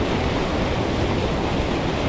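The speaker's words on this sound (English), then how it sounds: "In between the rapids, guys." Rushing river rapids at a double waterfall in early March, a steady broadband wash of churning water heard up close and loud throughout, with no talk.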